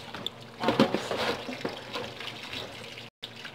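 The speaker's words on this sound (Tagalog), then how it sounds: "Hugasan natin siya guys. Lagyan natin tubig sa loob." Water is poured into a container for washing while preparing an Arabic dish, a steady splashing, running flow that briefly stops near the end, with a voice faintly in the background.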